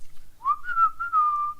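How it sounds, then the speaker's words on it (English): A person whistles one steady, sustained tune that rises briefly and then holds a level pitch, quiet and clear against a silent background with no talk. "That's me whistling and waiting for that to happen."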